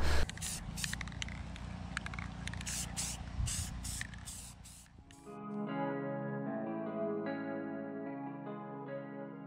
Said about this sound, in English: I just sprayed the last piece of the dash, the first little dusting coat